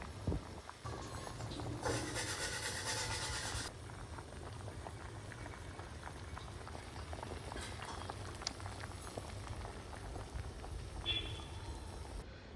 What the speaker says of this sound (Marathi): आता ही उकळलेली आहे आमटी